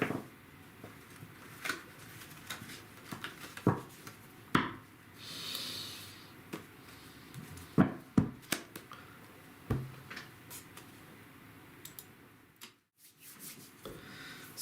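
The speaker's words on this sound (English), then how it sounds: "Again, as we shuffle," A tarot card deck is shuffled by hand at close range, producing quiet, irregular soft taps, flicks and riffling clicks with short pauses between bursts.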